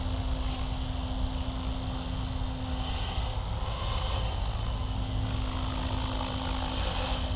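An SAB Goblin RAW 580 RC helicopter hovers on its maiden flight, giving a constant, near rotor drone topped by a steady high whine, with no talk.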